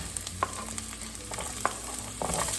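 Garlic browning in a pan for Filipino sautéed chayote squash gives a soft, steady sizzle broken by sharp utensil scrapes and clicks, with no one talking.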